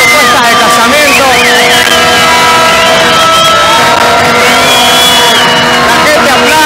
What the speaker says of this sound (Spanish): La gente aplaude.